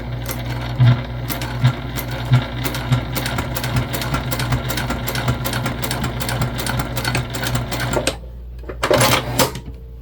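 Sewing machine stitching a travel sling bag across webbing, a loud, fast, steady needle chatter running for about eight seconds before stopping, followed by a brief burst of handling noise.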